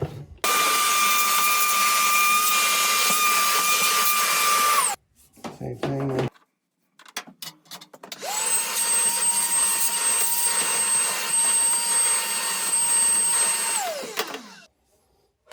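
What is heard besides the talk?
vacuum cleaner cleaning dryer vent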